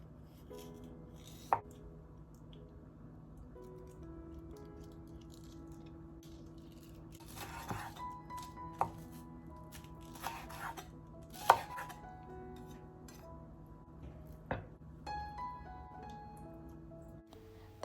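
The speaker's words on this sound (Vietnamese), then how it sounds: "phần hành xanh cũng vậy, mình cũng cắt mỏng ra và thành sợi nhỏ" A kitchen knife thinly slicing green onion into fine strips on a board, with scattered sharp knocks against a low steady background hum, quiet and close.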